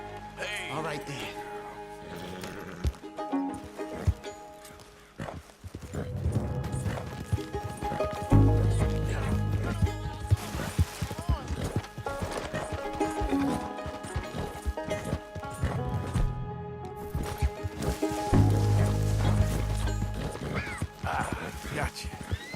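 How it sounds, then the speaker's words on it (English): Horse hooves clip-clop and a horse whinnies in the Red Dead Redemption 2 video game, with repeated neighs over steady hoofbeats and game characters speaking throughout. "Can you help me get my horse back?"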